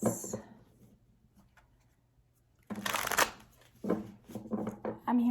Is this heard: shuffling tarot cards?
yes